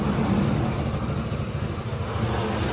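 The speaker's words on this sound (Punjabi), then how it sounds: "ਲੋ ਵੀ ਜਨਰੇਟਰ ਚੱਲ ਪਿਆ" A generator runs steadily close by, a continuous low droning engine hum with no pauses or shifts in pitch.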